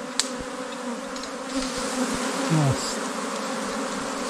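A swarm of bees at a beehive hums steadily throughout, a continuous close buzzing with a brief exclamation from a voice.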